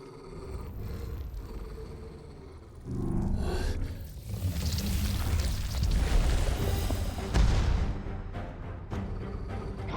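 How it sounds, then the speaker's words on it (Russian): An ether cannon fires in Final Fantasy XVI, swelling into a heavy, deep rumbling roar that builds after a quieter start and holds loud and sustained, with a few later booming surges. "Эфирная пушка."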